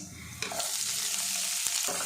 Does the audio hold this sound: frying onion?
yes